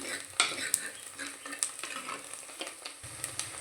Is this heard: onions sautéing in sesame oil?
yes